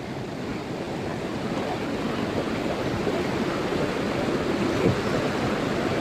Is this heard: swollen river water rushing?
yes